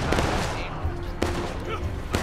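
Rifle gunfire in the Civil War shooter War of Rights during an Iron Brigade event, several sharp cracks scattered over dense battle din, with players talking over it.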